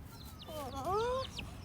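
A pet chicken gives a short run of clucking calls by a door, the squawks rising and falling over about a second, with faint background noise around them.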